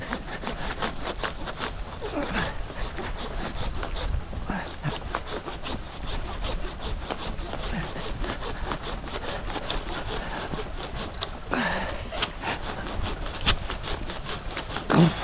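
A Silky handsaw cuts through a tree outdoors, making a steady back-and-forth rasping that is fairly faint and close by and repeats in even strokes throughout.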